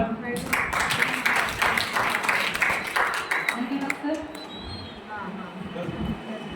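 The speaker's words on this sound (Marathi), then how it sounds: "आपल्या टाळ्या जोरदार होऊ द्या" An audience at a seminar and prize meeting claps for a guest welcomed onto the stage. Dense applause lasts about three seconds and then thins out to quieter room sound.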